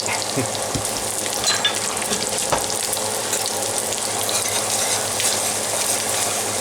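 Flour roux cooking in a Stargazer cast iron skillet, a steady broadband sizzle filling the whole stretch with faint occasional scrapes, close and even throughout.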